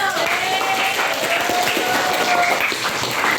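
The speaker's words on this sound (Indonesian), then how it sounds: "Tepuk tangan dulu buat Nando" Students in an eighth-grade classroom clap for a classmate, a steady and fairly loud burst of many hands with faint voices mingled in.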